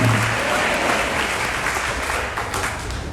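A congregation at a church retreat claps in praise, a thick, loud, sustained burst of applause filling the room with a murmur of crowd noise beneath it.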